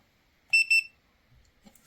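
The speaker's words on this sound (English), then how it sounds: "Beeps when it does the measurement." A short electronic beep in two quick high-pitched pulses from an HGL-205 infrared thermometer taking a measurement, clear and close, followed by quiet handling noises.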